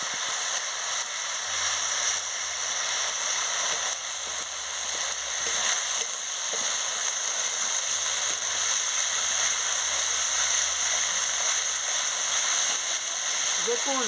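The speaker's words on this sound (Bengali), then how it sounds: "দেখুন মশলাটা কি সুন্দর ভাজা হয়ে যাচ্ছে, তেল বেরিয়ে যাচ্ছে।" Spice paste with chilli powder sizzling and frying in oil in a pan for a Bengali chicken curry, a steady bright hiss running throughout with a faint low hum underneath, and no talking.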